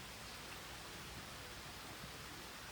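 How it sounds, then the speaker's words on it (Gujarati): Steady rain falls during a home puja gathering for Dashama, a continuous even hiss filling the whole clip at a constant moderate level, with no voices over it. "હવે વરસાદ તો જો મસ્ત આવે છે"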